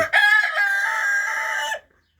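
A single rooster crows nearby, one loud, drawn-out call that cuts off abruptly into silence.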